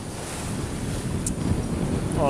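Heavy sea and strong wind at sea off Corsica between Figari and Ajaccio, a broad loud wash of wave noise with steady wind buffeting, seemingly from aboard a sailboat.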